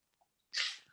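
A single sharp sneeze bursts out after a short quiet intake of breath, brief and fairly close, with no talking.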